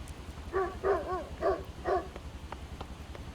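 A dog barks in the Project Zomboid video game, four evenly spaced barks at moderate distance over a low steady background hum, followed by quieter faint clicks.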